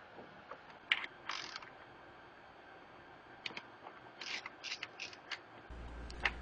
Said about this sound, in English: removing the final 8mm fastener found under the seat, holding the tank to the frame rail